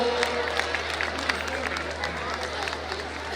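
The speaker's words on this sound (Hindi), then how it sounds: "तालियां बजा करके सहयोग दें सबको" Applause at a school annual function rises for honoured students, a steady wash of many hands clapping with crowd murmur, while a voice speaks briefly over it and a low hum runs underneath.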